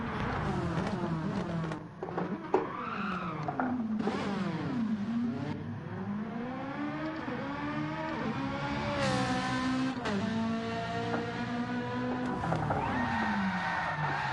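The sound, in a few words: race car handbrake spin at Bathurst in a racing video game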